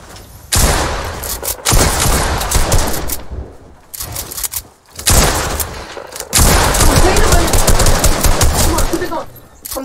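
Dense bursts of automatic gunfire and explosions in a squad-based shooter game, loud and rapid in several long volleys with brief pauses between them, with occasional voices underneath.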